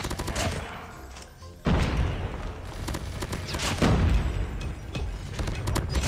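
Thompson SMG gunfire in a Call of Duty match, with rapid close bursts of shots and a sharp jump in loudness partway through, under continuous battle noise.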